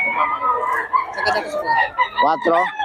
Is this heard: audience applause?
no